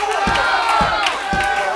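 A wrestling crowd roars and cheers at CWF Mid-Atlantic Wrestling, loud and sustained, with rhythmic pulses like chanting or stomping running through the noise.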